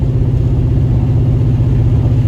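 A turbocharged Ford Mustang under hard throttle at about 10 psi of boost, a loud, steady, deep engine rumble heard from inside the car, continuous and without talk.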